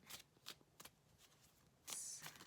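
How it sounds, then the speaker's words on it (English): Tarot cards being pulled from a deck and shuffled: soft, quiet papery riffles and slides in a few short bursts, with a slightly longer shuffle near the end and no talking. "I'm just pulling some cards to see if we can get"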